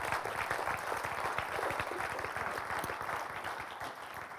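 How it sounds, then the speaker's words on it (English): An audience at a startup pitch competition final applauds steadily, a dense, continuous clatter of many hands with no pause, loud and even throughout. "That's the part where you applaud."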